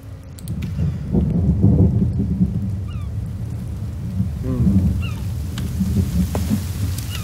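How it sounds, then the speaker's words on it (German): Heavy rain with deep rumbling thunder in the survival game The Forest, a loud continuous wash of rain with rolling low rumbles swelling and fading, a few faint bird calls on top. "Oh, es regnet."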